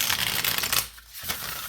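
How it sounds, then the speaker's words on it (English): A deck of tarot cards is shuffled by hand, a close run of quick riffling flutters that pauses briefly before a second burst of card slaps. "These have already been pre-shuffled, but I think I'll do it one more time"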